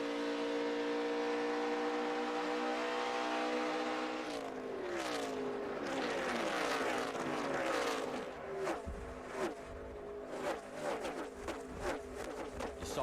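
NASCAR race cars at the 2012 Brickyard 250 scream past one after another, their high-pitched engine notes rising and falling in repeated Doppler sweeps, with the pack growing busier toward the end.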